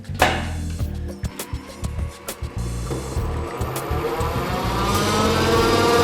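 A Di-Acro 17T 48-inch press brake starting up: sharp clicks and knocks give way to a rising motor hum that builds and holds steady, close by, with no talk.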